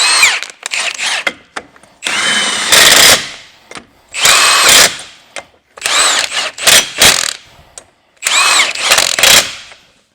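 A Milwaukee impact wrench works on a 1985 Talbot, firing in repeated loud rattling bursts of one to two seconds separated by short gaps, each burst hammering close to the microphone.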